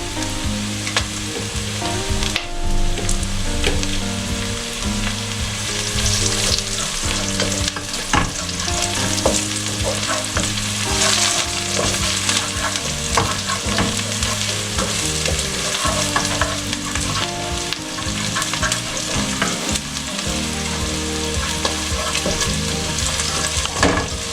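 Chili hits browned onions in a hot pan while Hakka noodles are being made, a loud, steady, close sizzle with constant stirring and scraping throughout.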